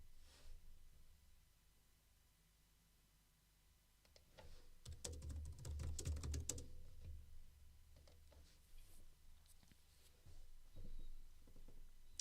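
Soft, quick typing on a computer keyboard, bursts of light key clicks that rise in the middle and then trail off, faint and close with no talk.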